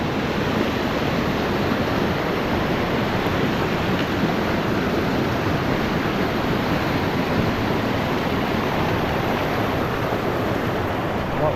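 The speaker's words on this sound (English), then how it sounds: "Oh, crossing of the creek here." A creek flowing through Small River Caves Provincial Park in the Canadian Rockies, a steady broadband rush of water that stays close and constant with no pauses, with no voices over it.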